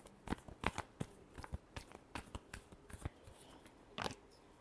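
Tarot cards being shuffled by hand, a series of quick crisp riffles and flicks in irregular bursts, close but quiet, with no talking.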